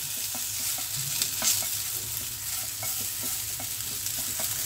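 Bitter gourd rings frying in oil in a pan, a steady close sizzle with soft scraping stir strokes at irregular intervals, continuous and alone.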